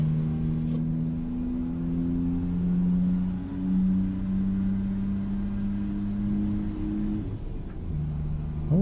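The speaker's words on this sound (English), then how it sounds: "Engine's pretty loud." A truck engine running steadily in American Truck Simulator, a continuous low droning hum with a faint whine as the truck cruises, loud and unbroken throughout.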